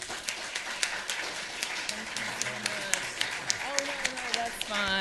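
Audience applause after a speech at a freedom movement event, steady scattered clapping from a modest crowd with a few sharper claps, a voice talking over it toward the end.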